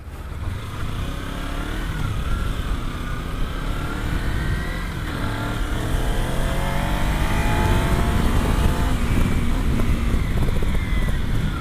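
A Kawasaki Z250 or Benelli TNT25 motorcycle engine revs hard and close, its pitch climbing in sweeping rises as the throttle opens, a loud continuous roar that swells toward the end.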